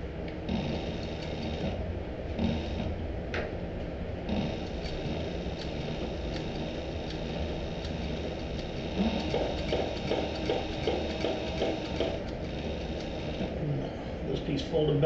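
A sewing machine stitches across a cork-covered fabric clutch, running a dense, rhythmic mechanical clatter continuously at close range with a few brief shifts in pace.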